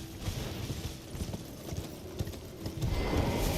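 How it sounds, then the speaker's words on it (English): Horse hooves clip-clopping in Elden Ring, a steady galloping patter of soft thuds, close and continuous throughout, with no talking. "So we're gonna hop the horse here."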